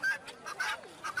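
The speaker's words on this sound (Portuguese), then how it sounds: "tinha a galinha da Angola que estava ali com eles, que ela gritava o tempo todo" A guinea fowl calls at a bird fair in Campodarsego near Padua, a few harsh, repeated cackling cries over faint background noise, with no talk.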